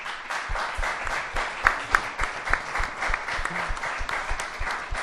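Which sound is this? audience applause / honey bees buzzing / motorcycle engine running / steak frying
audience applause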